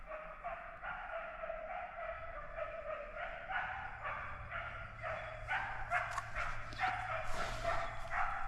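Hunting dogs barking during a deer drive in the Orléans forest, a pack giving continuous overlapping yelps and baying at a distance, growing more excited toward the end.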